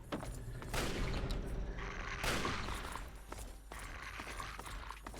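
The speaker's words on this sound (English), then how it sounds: "Lay a mine, then shoot at it." A laid mine is shot in Fallout 3, giving loud, sharp bursts of gunfire and explosion at irregular intervals over a constant low rumble, with clattering mechanical noises in between.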